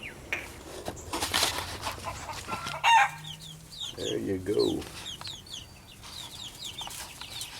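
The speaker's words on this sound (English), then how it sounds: "We got the chickens in here." Chickens and chicks settling into a repaired backyard coop: close clucking, chirping and a short crow-like call scattered through the clip, with someone briefly speaking at the start.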